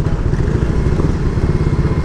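Motorcycle engine fitted with an aftermarket mushroom air filter and engine breather, running at a steady low idle with a throbbing, even pulse, close and fairly loud, with no talk over it.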